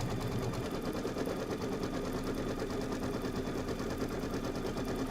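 A Kimberbell embroidery machine stitches a placement line for a quilted filler block, a steady rapid mechanical chatter holding at an even level from start to finish with no talk.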